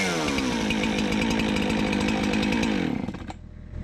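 A gas chainsaw, started on high idle with one pull, runs loud and close with a steady harmonic engine drone, then drops in pitch and volume near the end as it settles toward idle.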